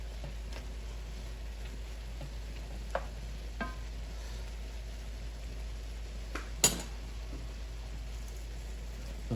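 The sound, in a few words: mushrooms and bacon stirred in a hot pan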